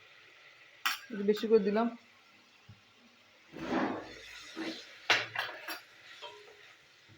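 A spoon works tomato, slit green chillies and spices frying in a pan for chicken curry, producing intermittent metal scrapes and clinks up close while a voice speaks between strokes.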